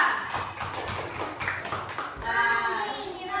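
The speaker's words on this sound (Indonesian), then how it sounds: "Tepuk tangan buat kelompok saya." Children in a classroom clap together for a group during an academic supervision coaching session, a burst of uneven claps with young voices chattering over and after it.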